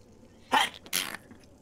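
A person sneezes twice in quick succession during an Among Us gaming session, two sharp, close bursts over a quiet background.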